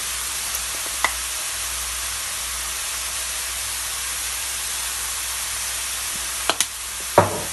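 Steady low sizzle of tomato puree and cayenne pepper frying in a pan, a soft even hiss throughout with a few faint scrapes and taps from stirring near the end.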